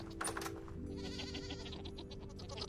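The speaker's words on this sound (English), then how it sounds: "How are my goats doing?" Goats bleating in the survival game Vintage Story, several short nasal cries spread across the clip over a steady low background hum, at moderate loudness with no talking.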